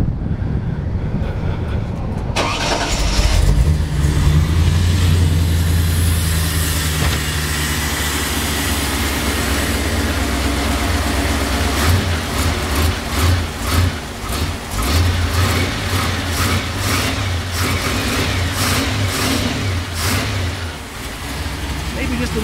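A 1949 Chevy five-window pro-touring car with a big block engine catches and idles steadily with a light wrist pin tick, rumbling close and loud for the whole stretch with occasional revs.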